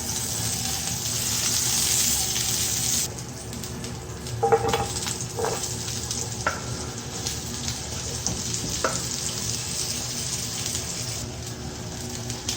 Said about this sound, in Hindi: अब इसी तरह हम शिमला को फ्राई करेंगे।